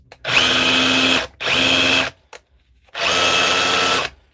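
An SDS drill runs in a workshop in three loud bursts of about a second each, a whirring motor with a high whine that stops sharply between runs.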